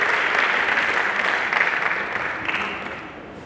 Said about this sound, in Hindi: मैं चाहूंगा जोरदार ताली बजाइएगा